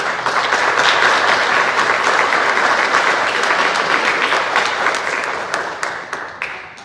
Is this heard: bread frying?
no